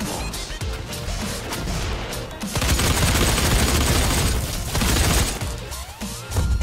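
Gunfire crackles almost nonstop in a DOOM multiplayer match, with dense bursts of shots, impacts and explosions that get louder and heavier halfway through.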